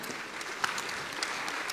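An audience at a brain-science conference applauds after a short film is screened, giving a dense, steady patter of clapping with a few sharper individual claps standing out.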